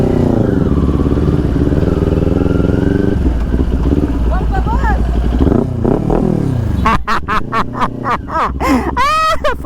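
A Kawasaki Ninja 400 engine hums loudly up close, then revs in several sharp rising bursts toward the end, with voices talking over it.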